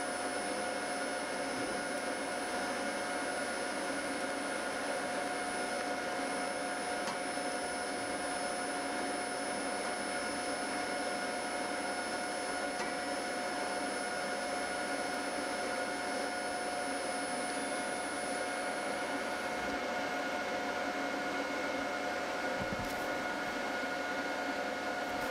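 TIG arc welding with a ceramic-cup pipe-walking torch on pipe, a constant buzzing, hissing tone that holds evenly for about twenty seconds, then falls to a quieter hum.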